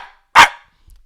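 A dog gives one sharp, loud bark, close by and isolated, with silence before and after.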